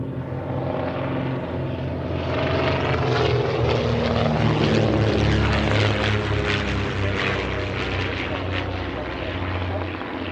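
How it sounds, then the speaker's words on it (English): A Percival Mew Gull–era Hawk Speed Six propeller aircraft at an evening airshow, a loud droning engine growing and fading as it flies past, with a voice speaking over it. "The Hawkspeed 6, which is the Licorice and Cream aircraft that's just broken to the right over the road"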